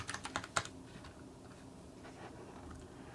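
Quick bursts of typing on a computer keyboard, a few sharp clustered keystrokes at the start followed by softer, sparse taps, quiet and close.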